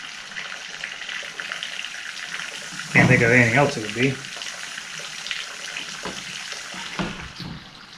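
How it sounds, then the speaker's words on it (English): Gritty roof granules rattle and hiss inside water siphoned out of a rainwater harvesting tank, a short burst of splashing, gurgling flow close by, with someone talking quietly around it. "I don't know if you can hear that, but I'm guessing that's probably roof granules."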